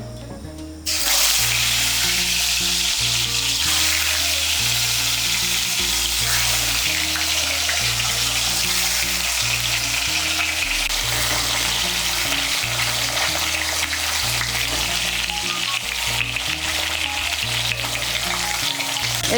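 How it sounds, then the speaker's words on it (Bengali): Chal kumra (ash gourd) pieces fry in hot oil with a loud, continuous close-up sizzle that starts abruptly after a brief quiet moment and holds steady, with low rumbling background hum and no talking. "জলটাকে সরিয়ে নিয়ে কুমড়োগুলোকে ভেজে নেব"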